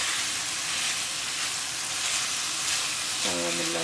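Onions frying and caramelizing in a pan for lamb liver, bacon and onion gravy, giving a steady, close sizzle that runs the whole time, with a short tonal sound near the end.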